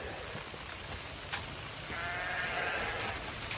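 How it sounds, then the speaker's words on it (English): Sheep on a Florida farm bleat faintly at a distance in the rain, with a few short wavering calls over a steady wash of rainfall. "Sheep are still not happy I didn't give them anything."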